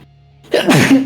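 A single sharp human sneeze bursts out after a moment of near silence, close and loud, with a short breathy intake just before it.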